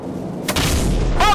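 Heavy gunfire from an aircraft in Call of Duty Modern Warfare (2007): a sudden boom around the half-second mark swells into a loud, sustained rumbling barrage, with a sharper burst near the end.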